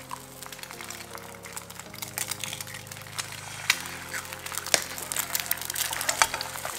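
Eggs frying and being scrambled in a hot oiled Stain Cookware pan, a bright continuous crackling sizzle over a low steady hum, close by, with no talk.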